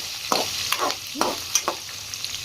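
Ginger, garlic and spices fry in a hot pan for vermicelli upma, with irregular stirring scrapes and clicks over a soft, steady hiss of oil, close and moderately loud.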